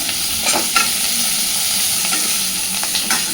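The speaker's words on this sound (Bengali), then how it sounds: "জাস্ট 1-2 মিনিট একটু নাড়াচাড়া করে মিশিয়ে নেব।" Onions stirred in a pan for a fish curry, a steady sizzle of frying overlaid with repeated scraping strokes of a spoon, close and fairly loud throughout.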